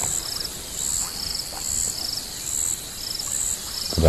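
A chorus of bubbling kassina frog calls repeats in a steady alternating rhythm, high and continuous against a quiet African safari night background, with no talking.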